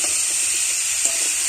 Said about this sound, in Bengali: হলুদ আর নুন দিয়ে দিলাম, এইভাবে ভালো করে কষিয়ে নেব